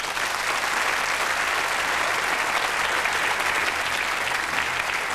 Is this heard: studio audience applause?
yes